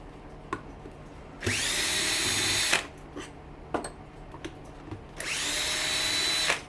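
Power drill running in two long bursts of high whirring that spins up and holds, separated by a pause with scattered clicks and knocks.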